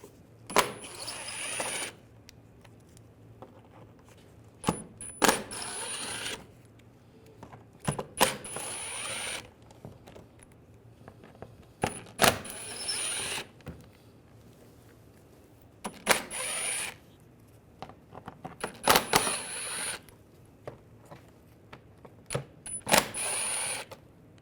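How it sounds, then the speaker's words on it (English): A T25 socket on a ratchet backs out the shield screws under a 2005-2010 Volkswagen Jetta 2.5L. Bursts of rapid ratchet clicking come in several separate runs with quiet gaps between them. "Underneath the vehicle, we're going to take these screws out for this shield. Use a T25 socket."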